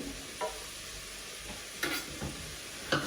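Pumpkin stews in a pot for pumpkin soup, giving a low, soft simmering hiss with a few faint scrapes and clinks of stirring.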